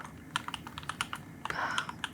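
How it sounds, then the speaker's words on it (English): Computer keyboard typed on in a quick run of crisp, close key clicks, with a brief denser flurry near the end, no voices. "I like to think I can type pretty fast."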